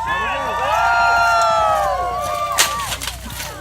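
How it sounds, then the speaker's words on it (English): Crowd at a Renaissance faire joust raising a loud, sustained cheer with overlapping shouted voices, steady for a few seconds before a sharper burst near the end. "Do not forget to cheer loudly for your knights as they begin."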